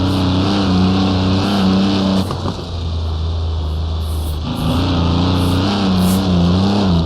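A Mercedes Transporter van in the Assetto Corsa racing game accelerates uphill in third gear on the Nordschleife, its engine droning loud and steady, briefly easing off mid-run before pulling hard again.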